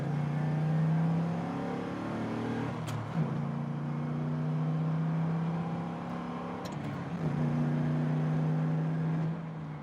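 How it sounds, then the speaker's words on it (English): A modified LS1 Pontiac GTO, tuned to about 400 wheel horsepower, pulls hard from a second-gear roll. Its loud, close engine drone climbs steadily, broken by two brief dips where the pitch drops and then rises again. "Get a little roll from second gear."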